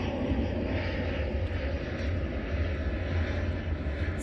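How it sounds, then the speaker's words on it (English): A plane coming in to land near an airport, heard on a sunset walk in California: a steady, loud, broad engine roar and rush of air that holds without a break. "After every 2 minutes, we have a plane touching down."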